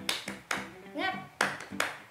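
Children clap along in a spirited group chant at an online Sunday school session, with several sharp bursts of clapping spaced through the clip and a sung or called-out voice rising between them.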